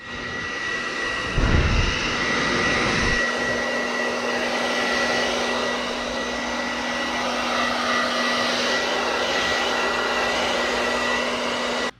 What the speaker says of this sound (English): Get a hair dryer and go to work.